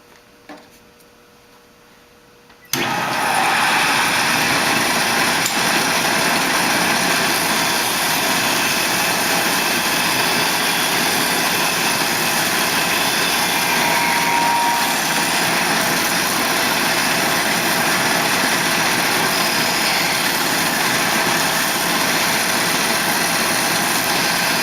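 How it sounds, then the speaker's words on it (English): A disc sander starts up after a few quiet seconds, then runs at a loud, steady whine as it sands without pause for over twenty seconds. "we're going to go ahead and start sanding just to show you what it's like."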